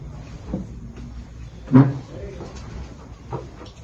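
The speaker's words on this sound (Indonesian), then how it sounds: "sekarang Intan silakan pindah ke kursi yang sebelah" Someone shifts across to another chair during a counseling session, giving one sharp wooden knock and creak midway, surrounded by soft shuffling and small bumps.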